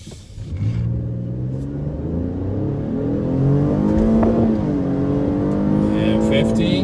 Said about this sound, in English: Do another 0 to 60 and then do a little brake test.